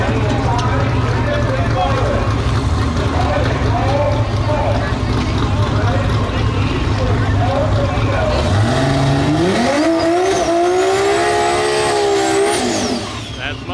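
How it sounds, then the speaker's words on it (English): Toyota Supra doing a burnout at a drag race, a loud, close engine roar with climbing revs and a rising whine toward the end, tire noise and crowd or commentary voices mixed underneath before it cuts off. "Supra's going to go back for a little bit better of a burnout."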